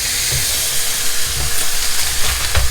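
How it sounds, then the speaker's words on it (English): Blackened fish sizzles loudly in a hot pan as it is flipped. A steady, bright hiss carries throughout, with a few soft low thumps and crackle surges. "Now I'm going to flip them."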